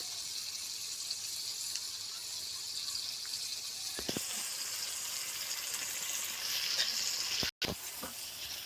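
Oil-spiced rupchanda fish curry poured out, a faint continuous sizzle and hiss with a few soft clinks and a brief pause near the end.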